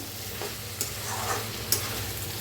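A spoon stirs brinjal bhaji with crushed peanuts and coriander in a pan, scraping and sizzling steadily up close, with a couple of sharper clinks against the metal.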